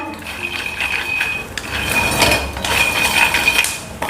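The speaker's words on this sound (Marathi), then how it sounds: "शेंगदाणे छान भाजून झालेले आहेत।" Peanuts being dry-roasted and stirred in a pan for Janmashtami govind ladoo, giving a steady scraping and clinking rattle of nuts against metal that continues throughout, fairly close and even in loudness.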